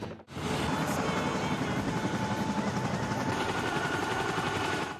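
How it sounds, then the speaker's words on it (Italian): A military helicopter lifting off from the Italian military base at Herat, Afghanistan, with a loud, continuous rotor roar and engine noise that stays steady for the whole stretch after a brief opening cut. "Raggiungiamo la scuola a bordo di elicotteri militari, alzatisi in volo dalla base militare italiana di Herat."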